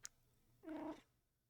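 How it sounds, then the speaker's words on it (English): A cat gives a single faint meow, short and drawn out, set against quiet room background. "My cat is meowing."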